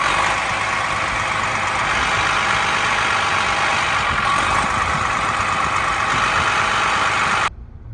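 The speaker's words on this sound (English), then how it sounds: "I started the bus just to charge the batteries a little bit, and it's idling up and idling down" A bus engine idles steadily with a broad rumbling drone that surges up and down slightly, a mechanical fault, then cuts off abruptly near the end.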